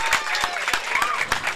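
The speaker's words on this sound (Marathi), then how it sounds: "एव्हरीवन सगळ्यांनी टाळ्या वाजवतात जोरदार टाळ्या होऊन जाऊ द्या." Applause at a prize ceremony for the Shree Sai Championship 2024: a dense, steady crowd clapping that stays loud throughout, with a voice talking over it.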